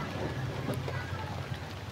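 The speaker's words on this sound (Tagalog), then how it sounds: "Maulan pa rin po dito, medyo naulan pa rin." Steady rain falling during Typhoon Kristine outdoors in the Philippines, a constant moderate hiss with a low rumble beneath it throughout.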